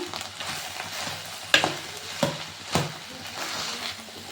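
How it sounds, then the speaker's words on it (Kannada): Cooked rice is stirred and tossed in a frying pan over a steady sizzle, with a few sharp scrapes of the spatula against the pan at irregular intervals. "ಒಂದು ಕಡೆ ಅನ್ನ ಮಾಡಿ ಇಟ್ಕೊಂಡಿದ್ದೀನಿ, ಅದನ್ನು ಇವಾಗ ಮಿಕ್ಸ್ ಮಾಡ್ತಾಯಿದ್ದೀನಿ"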